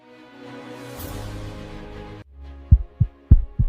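A heartbeat sound effect opens with a swelling low rumble, then breaks into four deep, loud thumps in a paired, steady rhythm.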